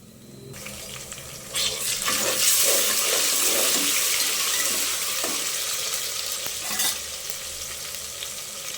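Onion and ginger paste fries in a pan for chicken pulao, a loud broad sizzling hiss that swells as the paste goes in and stays steady throughout, with a few sharp stirring scrapes and no talking.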